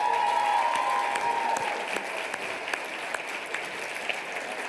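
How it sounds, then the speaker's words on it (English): A Shark Tank session audience applauding, dense clapping that starts strong and gradually thins out toward the end. "one more round of applause for everybody."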